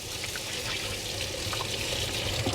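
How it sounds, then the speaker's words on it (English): Running kitchen tap water splashes steadily over hands at a sink, a soft, continuous close pour with light trickling, no voices. "Let me wash my hands here."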